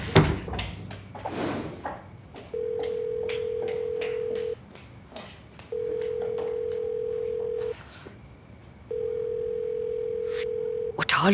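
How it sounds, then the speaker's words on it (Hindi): A telephone rings in three long, steady tones separated by pauses, with some rustling and clicks before the first ring. "उठा लो बेटा, उठा लो फोन"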